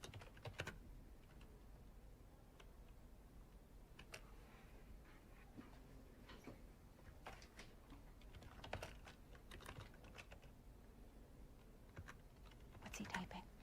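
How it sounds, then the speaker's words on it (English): Quiet, irregular clicks of typing on a computer keyboard during a Warframe developer livestream, scattered keystrokes over faint background noise and occasional voices. "What's he typing?"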